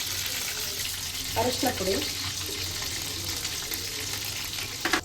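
Mustard seeds and cumin sizzling in melted butter in a pan, a steady hissing fry throughout with brief crackles, while someone speaks briefly over it.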